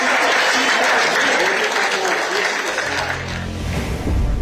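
A Democratic Party election camp erupts in applause and cheering, a loud dense crowd roar of clapping and shouts that fades slightly near the end before swelling again, with voices mixed through it.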